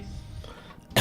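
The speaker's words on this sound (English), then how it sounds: "Sorry, I'm coughing." A single sharp cough bursts out at the end, preceded by a low murmuring voice, close and loud.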